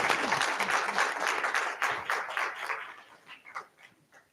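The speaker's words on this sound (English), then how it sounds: "Let's give them another round of applause." An audience at a school board meeting claps in a dense burst of applause that thins into scattered claps and trails off toward the end.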